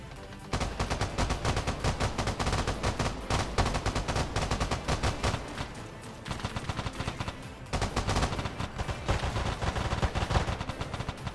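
Dense, continuous gunfire in the game Stalker Reforged rattles loudly, rapid automatic bursts overlapping with heavy blasts and almost no pause.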